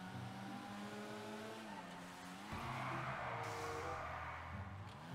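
A Volkswagen Golf drifting in GTA 5, its engine droning steadily with harmonic whine while a broad tire squeal swells in midway and holds to the end, fairly quiet overall.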